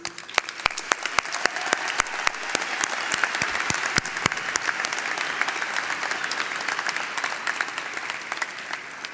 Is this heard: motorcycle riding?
no